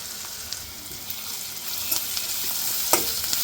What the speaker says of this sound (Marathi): आता यावर घालूया आपण वाटलेला लसूण आणि हिरवी मिरचीचा ठेचा